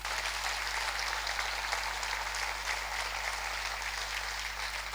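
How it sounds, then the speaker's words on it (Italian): An audience at a concert applauds a pianist with steady, dense clapping that stays even and moderately distant throughout, with no voices over it. "Abbiamo fatto un applauso alla pianista."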